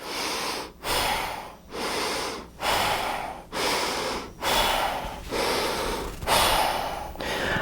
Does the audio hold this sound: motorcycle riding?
no